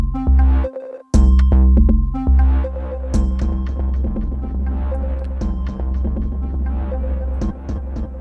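Teenage Engineering KO II Medieval producing a dark, diffused echo effect: repeated synth notes and hits smear into a murky, sustained tail over a steady low throb, loud and continuous throughout.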